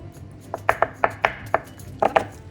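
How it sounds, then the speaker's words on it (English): A knife cuts tofu into small cubes on a board, giving about a dozen crisp, evenly spaced chops that land close and clear, with no voices. "What we're gonna do is we're gonna cut it up into smaller cubes and marinate it in our chili oil"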